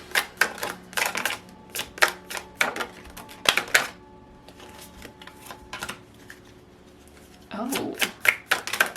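Tarot cards dealt and shuffled in quick bursts of crisp slaps and riffles, close and sharp, with a brief lull before a final flurry of card snaps.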